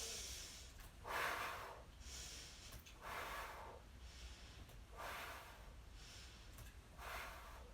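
Rhythmic breathing during a PiYo abdominal exercise, slow breaths repeating about every two seconds, soft and close with no talk.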